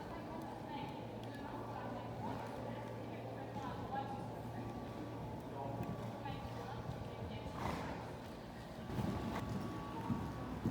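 A horse cantering in a riding arena during a lesson, hooves thudding in a steady rhythm under an instructor's voice and low background noise.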